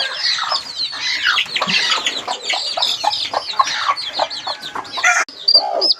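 Dense, busy chirping and clucking from a crowd of small chicks and hens, continuous and close, with a few sharper peeps rising above the chatter.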